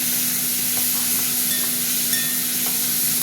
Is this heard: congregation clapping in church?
no